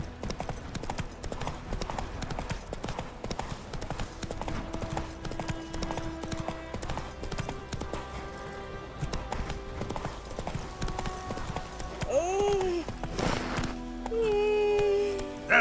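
Roach, Geralt's horse in The Witcher 3, clip-clops steadily at a walk over continuous ambient game sound, with brief tonal in-game sounds near the end.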